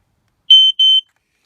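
An Aico Ei141 smoke alarm under test gives two short, shrill, piercing piezo beeps in quick succession, close and loud, with silence before and after.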